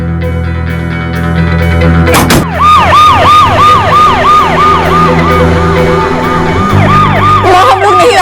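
An ambulance siren wails loudly and close in a fast repeating rise-and-fall pattern, with a brief thump near the start and traffic rumble underneath.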